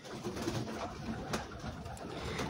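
Pigeons kept by a fancier make a dense, steady wash of cooing and wing noise throughout, fairly loud and close, with no one talking.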